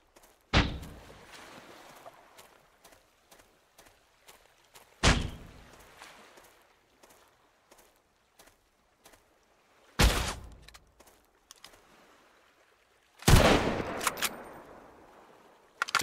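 Gunfire in the survival game Sunkenland: four sharp, loud shots spaced several seconds apart, the last one followed by a ringing tail and quick extra cracks, with quiet stretches between.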